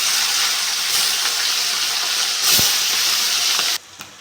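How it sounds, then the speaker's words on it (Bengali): Parshe fish sizzle in hot oil with a loud, close, steady hiss that swells briefly near the middle and then cuts off abruptly near the end. "মাছগুলো আমি একইভাবে ভেজে নেব"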